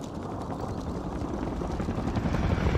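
In the video game Warzone, a helicopter drones steadily with a dense rotor rumble, loud and continuous throughout, with no talking.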